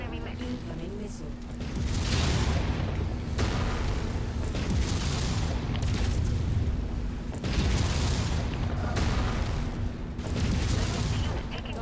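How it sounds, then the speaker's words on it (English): Heavy booming missile explosions in the mech combat game MechWarrior 5, rolling in repeated loud bursts every few seconds over a constant low rumble, with a synthesized cockpit voice speaking at times. "Incoming missile."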